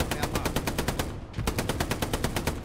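Sustained machine gun fire in the WWII shooter Hell Let Loose, a fast steady stream of loud rounds running the whole time with only a brief gap midway, no talking over it.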